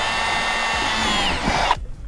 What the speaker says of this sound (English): Just drilling holes in a brand new kayak.